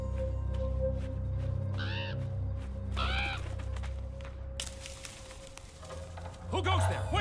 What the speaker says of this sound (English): that's just a bird.